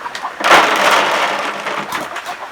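Rain falling steadily on a farm during flooding, a continuous hissing patter with a louder burst near the start, heard alone and close.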